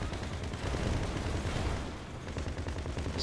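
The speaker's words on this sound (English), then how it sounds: "The guy is shooting us." Gunfire in GTA 5 target assault, rapid dense bursts of shots and crackling reports, fairly quiet and continuous throughout.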